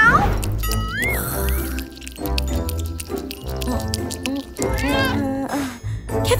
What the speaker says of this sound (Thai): แมวแมว อะไรเนี่ย